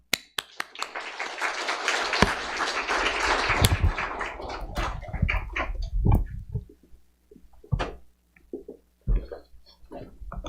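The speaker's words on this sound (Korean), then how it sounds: "귀한 우리 선교사님 보내주신 하나님께 우리 감사의 박수 올려드리면서" A church congregation at a Korean Sunday worship service claps together in thanks; a dense burst of applause fills the first few seconds, then thins into scattered claps and taps.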